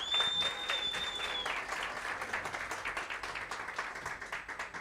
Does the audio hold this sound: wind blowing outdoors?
no